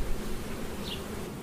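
Honeybees buzzing after a carbon dioxide varroa mite test, a steady, soft insect hum with no pauses and no voices.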